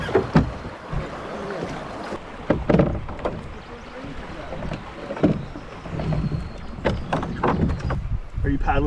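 Canoe paddles dip and pull through calm water on a lake in Algonquin Park, soft splashes and knocks against the hull recurring irregularly with wind and people talking nearby.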